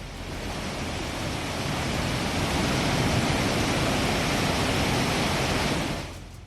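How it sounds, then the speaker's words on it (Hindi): Water rushes out of the open gates of the Kanhar dam, with all 14 gates open at once. A loud, steady, broadband roar holds without a break and fades slightly at the end. "अब आप देख सकते हैं कि डैम के गेट से कितनी तेजी से पानी निकल रहा है।"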